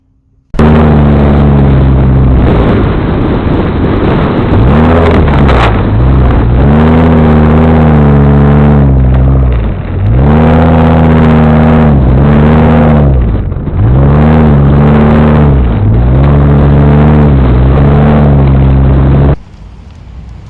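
A V10 engine in a high-top-roof conversion van revs hard again and again, each loud rising roar falling back toward idle, very close and clipped, with no talk, ending abruptly.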